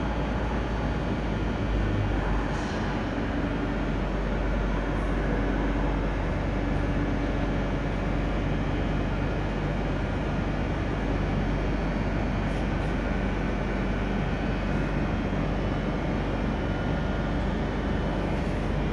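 Trains at Bordeaux Saint-Jean station in France, a steady broadband rumble of rail traffic and station noise throughout, with faint brief higher sounds now and then, no talk.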